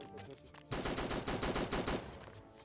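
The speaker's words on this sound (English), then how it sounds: "Shooting at someone." Gunfire in the video game Fallen Survival bursts out as a rapid string of loud shots for over a second, preceded and followed by softer in-game sounds.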